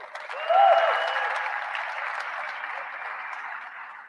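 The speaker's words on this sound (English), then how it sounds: "one more round of applause for the Creighton Blue Jays" Fans in a basketball arena applaud the Creighton Blue Jays on Selection Sunday, a full crowd clapping that swells early and then holds as a steady roar, with a brief tonal whistle or squeal near the start.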